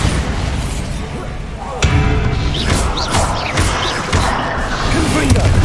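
Bombarda spell blasts in Hogwarts Legacy, sharp thumping impacts and crashes landing in quick succession amid dense combat noise, with a voice talking over parts of it.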